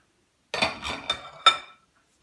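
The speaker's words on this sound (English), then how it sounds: "I'll scrape off all the mixture from the spoon because you don't want to waste any" A spoon scrapes and clinks against a container while ice cream mixture is cleared off it, four short metallic scraping strokes close by, then quiet.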